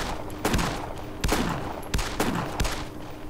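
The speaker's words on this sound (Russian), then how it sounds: "Давай с дробовика пойдем." Shotgun blasts in a zombie horror video game, four loud booming shots spaced roughly evenly about a second apart, each with a short decaying tail, over a steady background.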